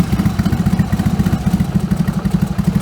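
A Fiat 126p with a turbo setup, three throttle bodies and two carburetors runs with a fast, even pulsing putter, close and loud, with no talking.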